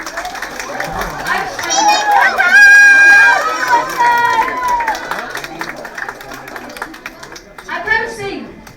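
Theatre audience at a staged play clapping and cheering, a dense crowd swell peaking early then tapering, mixed with loud chatter and voices over it.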